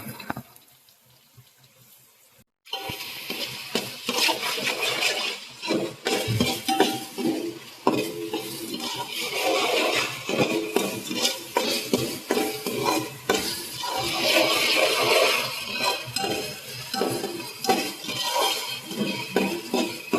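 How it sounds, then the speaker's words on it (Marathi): Onion frying for misal in a pan, a loud, close sizzle with busy spoon stirring and metallic scraping that runs steadily after a quiet start of about two and a half seconds. "व्यवस्थित कांदा भाजून घ्यायचा आहे"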